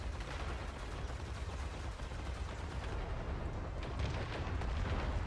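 A volcano weapon fires in the game Worbital, a dense, continuous roar of rumbling blasts and crackling eruptions that stays loud throughout.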